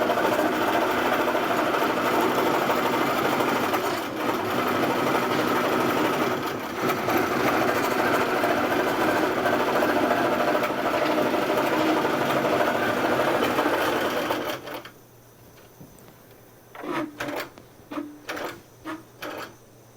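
A sewing machine stitches a scrap strip quilt with a long, steady, close whir for about fifteen seconds, then stops, followed by a few short rustles and taps.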